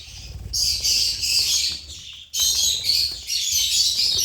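Dense, high-pitched chirping and tweeting from a group of pet lovebirds, continuous and fairly close, with a brief pause midway, on a cold, foggy day.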